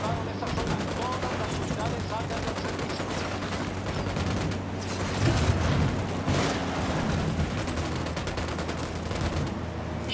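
Dense, sustained gunfire from several weapons in Ghost Recon Wildlands (Fallen Ghosts), with rapid automatic bursts layered over one another and a slightly heavier volley around the middle, accompanied by voices.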